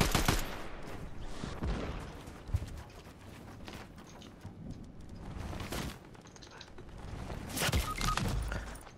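Gunfire in the video game Fortnite, a busy, dense mix of shots and bursts that swells and fades across the clip, loud at several points, with scattered footsteps and game effects and no clear talk.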